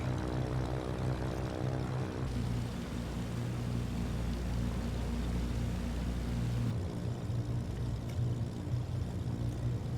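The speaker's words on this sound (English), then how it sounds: "And give a little bit of throttle to taxi on out." Cessna 310R twin piston engines idling and taxiing in a flight simulator, a steady low droning hum with layered harmonics, continuous and fairly loud throughout with a slight shift in tone partway.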